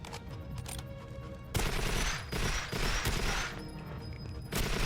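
Dense, continuous enemy gunfire in GoldenEye 007 on Wii, rapid overlapping shots forming a loud, sustained fusillade with a few sharper bursts standing out.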